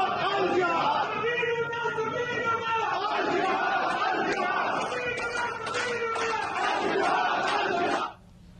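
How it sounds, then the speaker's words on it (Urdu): A large crowd of protesters shouts and chants slogans together loudly and continuously, voices overlapping in a dense roar, then cuts off abruptly near the end. "سو یہ نعرے لگ رہے ہیں"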